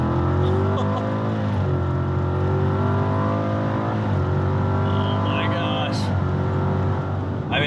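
A Chevrolet Camaro SS fitted with Corsa mufflers cruises at around 30 mph, its exhaust a smooth, steady drone with gentle rises in pitch as it accelerates, while people talk inside the cabin.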